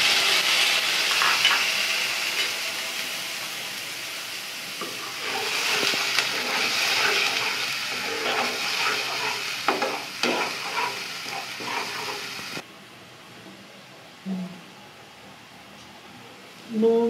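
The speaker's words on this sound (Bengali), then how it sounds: "এবার এই আদা, পেঁয়াজ, রসুন, লঙ্কার মিশ্রণটা" A paste of ginger, onion, garlic and chilli frying in a pan, with loud sizzling and stirring scrapes up close that ease off toward the end and then drop to near quiet with a few small clinks.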